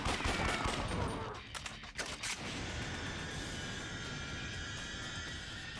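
Combat gunfire in the video game Dead Souls, a dense continuous barrage of rapid shots and blasts with a few sharper bursts, sustained throughout and fairly quiet overall.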